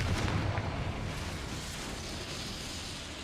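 A fire spell explosion in the video game Hogwarts Legacy bursts with a heavy, booming blast that quickly fades into a rumbling roar, loud and close.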